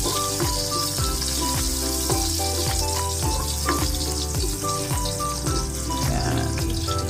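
Garlic and then ginger frying in a pan for a Filipino steamed mussel dish, a steady dense sizzle running continuously with faint repeated clinks or scrapes of a utensil beneath it.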